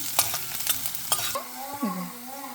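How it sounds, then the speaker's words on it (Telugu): Ginger, coriander seeds and urad dal fried one at a time in a pan for brinjal chutney, with a run of quick, close spatula scrapes and clicks over a light sizzle, then a few softer tonal sounds. "అల్లం, ధనియాలు, మినప్పప్పు ఇట్లా ఒక్కొక్కటి వేయించుకొని"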